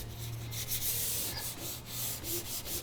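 A hand rubbing away trowel lines in a wet concrete coating on a wooden bar, a steady scratchy rubbing sound with rhythmic strokes, close and fairly quiet, with no talking.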